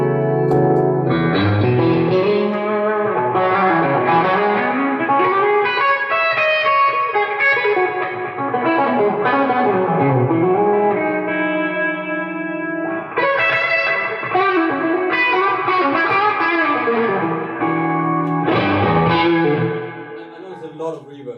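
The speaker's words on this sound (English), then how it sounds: "it's enjoyable reverb, it's not too much" Distorted electric guitar played through a Victory Deputy amp, chords and melodic lines ringing with a moderate digital reverb tail, continuous and loud throughout.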